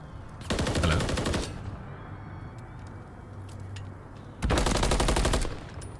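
Two loud bursts of rapid automatic fire from an MCW rifle in a Call of Duty match, each lasting about a second, with quieter ambient game noise in the gap between them.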